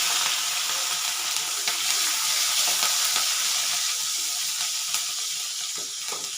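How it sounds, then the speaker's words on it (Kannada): Garlic and green chilies sizzle in hot oil in a pan for a vegetable masala, a dense, even frying hiss up close with scattered pops and light stirring, no voices. "ಇನ್ನು ಇದಕ್ಕೆ ಬೆಳ್ಳುಳ್ಳಿ ಮತ್ತು ಹಸಿಮೆಣಸು ಹಸಿಮೆಣಸು ಹಾಕ್ತಾ ಇದ್ದೇನೆ"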